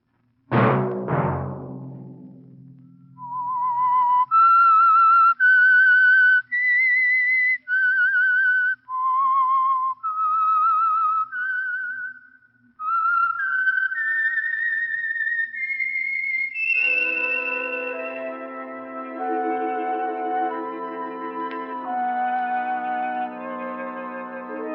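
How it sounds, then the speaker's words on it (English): A whistled signal theme for The Whistler radio program, the Signal Oil mystery show: a lone, loud melodic whistle rising and falling through a series of sustained notes, then joined by orchestral music for the final stretch. "Let that whistle be your signal for the Signal Oil program, The Whistler"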